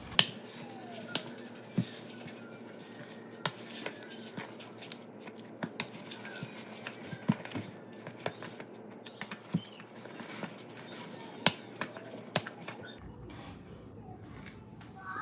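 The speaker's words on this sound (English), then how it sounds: "Now we gotta whisk it." A whisk clicks and scrapes lightly against a bowl while mixing dry cookie ingredients such as brown sugar, salt and baking soda, producing quiet, close, irregular ticking strokes that run steadily throughout.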